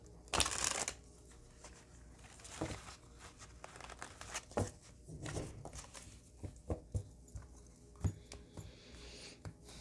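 Tarot cards are shuffled and pulled in quick papery riffles and crisp slaps, with a loud burst at the start and then scattered shorter flicks, close and dry, with no talking.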